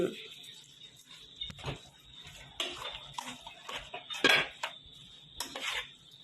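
A spoon stirs Thai bamboo shoot soup seasoned with chili and toasted rice powder in a pot, giving repeated close clinks and scrapes against the metal while someone talks.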